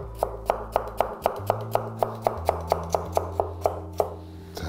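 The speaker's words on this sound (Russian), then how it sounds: "нарезаем морковь" A knife chops carrots steadily on a cutting board, about three crisp strokes per second, close and clear with a low hum underneath.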